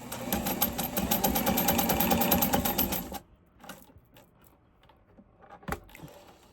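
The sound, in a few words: Fashion Mate 257 sewing machine stitching a zigzag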